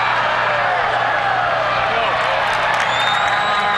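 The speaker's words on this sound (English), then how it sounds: "The vocal crowd." A loud rugby crowd at a Canada versus USA Pan Am match cheers and roars in a steady wash of noise, distant and continuous throughout.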